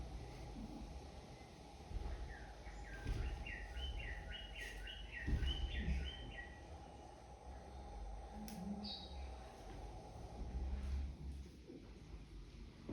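A small but very loud wren-like bird calls in an Indonesian forest, a rapid run of high chirping notes heard at a distance over steady low forest ambience, with a lone later note.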